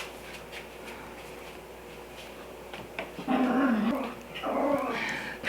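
A pet dog growls low and rumbling, close by in a quiet room, swelling into two longer grumbling growls near the end with faint whimpering edges.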